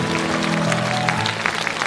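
A stage audience at a music show bursts into brief, dense applause, with sustained musical tones running underneath the clapping.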